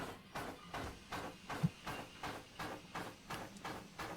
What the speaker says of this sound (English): Let's dump some steam.